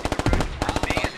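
Rapid automatic gunfire in the video game Squad, a loud close burst of about a dozen evenly spaced shots, a brief pause, then another quick string of rounds.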